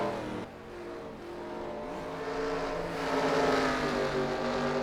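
A race car engine in a racing video game revs and accelerates near and loud, its pitch dipping and then climbing steadily as the throttle opens, with other cars' engines droning faintly underneath.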